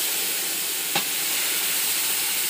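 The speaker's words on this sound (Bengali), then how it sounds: "এরপর গরম জল দিয়ে দিলাম" Hot water hits a pan of frying vermicelli with cashews and raisins, raising a loud, continuous sizzling hiss with a brief splash-like burst partway through.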